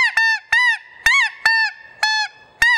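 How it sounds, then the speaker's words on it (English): Haydel's SN04 short reed snow goose call blown in six short, sharp honking notes, each bending in pitch as a hand cups and opens over the call, loud and close with brief silences between. "This is a short reed snow goose call."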